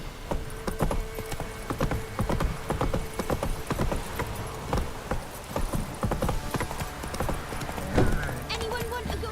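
Roach, a horse in The Witcher 3, clip-clops along in a steady rhythmic gait, each hoofbeat sharp and close, while a person talks over the footsteps.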